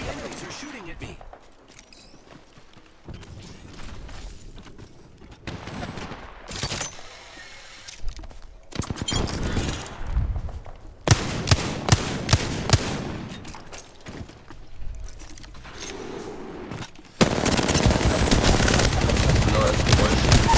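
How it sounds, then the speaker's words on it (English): Gunfire in the battle royale game Apex Legends on the Kings Canyon map: bursts of automatic fire and scattered shots that grow into heavy sustained shooting near the end, with a player talking over much of it. "The enemies are shooting at me."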